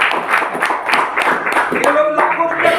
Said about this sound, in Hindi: बार फिर साहब को जोरदार तालियां।